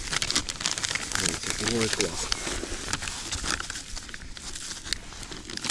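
Crinkling plastic bag rustles loudly and continuously close by, with a brief spoken exclamation partway through, at a riverbank during morning feeder fishing.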